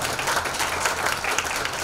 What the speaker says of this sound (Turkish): Bu alkış güzel.